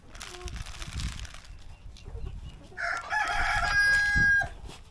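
Farm chickens being fed sliced banana and layer feed cluck and scratch about, then a rooster lets out one loud, drawn-out crow near the end.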